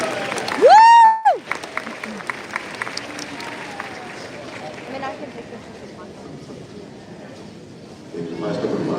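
Crowd applause in an arena at a Santa Gertrudis cattle show as the class exits, opening with a loud whistling whoop and then continuing as moderate, slightly distant clapping for several seconds.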